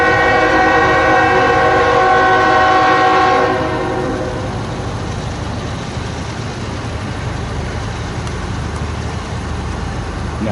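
A train on the Trenton Sub heads north past Woodbourne station and over the Woodbourne Road crossing. A loud, sustained multi-tone horn blast sounds first, then gives way to a steady rolling rumble of the cars passing close by.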